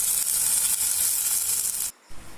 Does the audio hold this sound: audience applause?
no